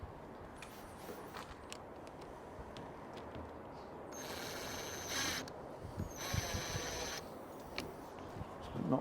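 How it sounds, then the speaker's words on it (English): A power drill drives into a BillyOh log cabin window frame in two short, faint whirring bursts, set apart by quiet shuffling and handling noises. "Find my drill."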